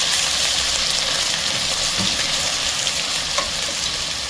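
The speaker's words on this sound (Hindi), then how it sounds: "जिंजर गार्लिक का पेस्ट डाल देते हैं और फटाफट स्टर कर देते हैं" Ginger-garlic paste frying with onions over a low flame, a continuous sizzle with a faint scrape of stirring in a pan, steady and close with no talking.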